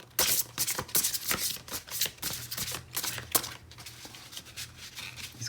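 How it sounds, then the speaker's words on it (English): A stiff deck of oracle cards is shuffled close up, giving a dense run of rapid papery riffles and soft clacks that keeps going the whole time with no voices. "These cards are so hard to shuffle."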